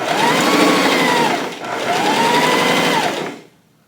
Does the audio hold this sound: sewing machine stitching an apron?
yes